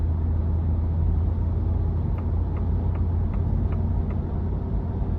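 A 2023 Ford F-250 Lariat Ultimate Tremor pickup with the 7.3 liter engine and bigger tires cruises on a test drive, heard from inside the cab as a steady, low, even engine and road rumble with a few faint ticks.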